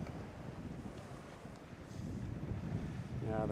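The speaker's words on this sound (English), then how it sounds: "the wind is picking up right at the wrong time" Coastal wind at sunset off Kona, Hawaii, buffets the microphone with a low, rough, steady roar that swells louder toward the end, with ocean surf mixed in.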